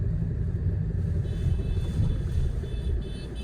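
Continuous heavy cabin rumble with rattling vibration in a Honda Amaze car being driven with a failed steering rack, loud and close with no voices.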